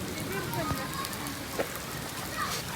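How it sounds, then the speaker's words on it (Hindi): Heavy rain in Jeddah pours steadily, a dense, even hiss with scattered drops, while faint voices murmur in the background. "तेज हो गई बारिश।"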